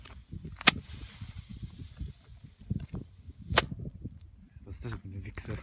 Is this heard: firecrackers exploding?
yes